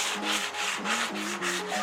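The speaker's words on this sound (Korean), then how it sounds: "이제 센 걸로 갈아주고 나서 그 다음에 점차 고운 걸로 갈아주게 되면" Sandpaper rubs over a wall surface during an apartment remodel before painting, working from coarse toward finer grits. Close, rhythmic back-and-forth scratchy strokes repeat about seven times at an even pace, with no voices.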